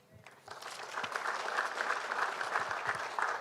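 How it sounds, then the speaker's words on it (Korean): Congregation applause during a missionary commissioning church service, clapping that swells from a few hands into a full, steady round of many people. "하나님께 영광의 박수 올려드립니다"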